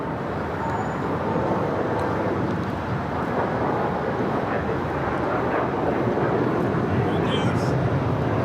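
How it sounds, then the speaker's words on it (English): A United Airlines Boeing 787-9 Dreamliner taking off at LAX, a dense continuous roar of jet engines under broad ambient rumble, loud and sustained throughout with no clear speech. "United Airlines 801. Taking off to Hong Kong on the 787-9 Dreamliner."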